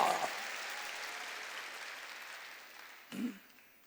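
Congregation applause during a Korean church worship service, a broad wash of clapping that slowly fades, with a brief voice near the end.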